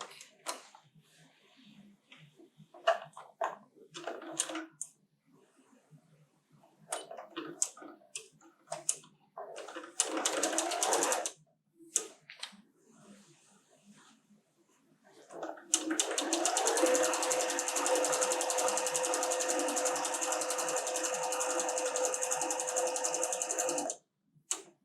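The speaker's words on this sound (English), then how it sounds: "I'm going to go ahead and take a 1/4 inch seam on each side again." A sewing machine stitches a quarter-inch seam on a quilted table runner, with a long steady run of rapid needle rhythm after scattered short bursts and handling noises, close and fairly loud, with a little talk around it.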